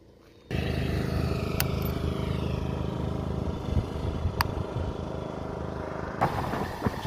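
A Bajaj Pulsar 150 twin disc motorcycle being ridden, its engine cutting in abruptly and holding a steady loud drone with wind rush and a couple of sharp clicks, no talk.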